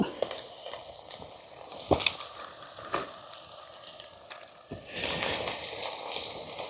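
Spoon scraping and stirring chili powder, salt and turmeric into a sizzling curry pan for boti velakkaya curry, with sharp metallic clinks at intervals and the frying growing louder toward the end.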